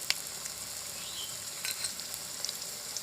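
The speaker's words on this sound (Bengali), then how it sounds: "তেল গরম হয়ে গেছে, এবার 5 ফোড়ন আর তেজপাতা দুটো দিয়ে দেবো। এতে টুকরো করে কাটা আলু আছে, দিয়ে দেব।" Potatoes, panch phoron and two bay leaves frying in hot oil in a village-style kitchen, a steady close crackling sizzle with small pops throughout.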